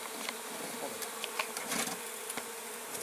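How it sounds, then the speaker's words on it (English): Honeybees buzz with their wings around a hive being relocated in Provence, a dense continuous drone of many insects with individual bees passing close, no voices. "The buzzing sound is that just the sound of their wings buzzing?"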